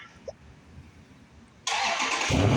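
A Dodge Scat Pack starts after a quiet moment: the starter catches abruptly into a loud, full engine roar that deepens and grows heavier as it settles into a rumbling idle, heard up close.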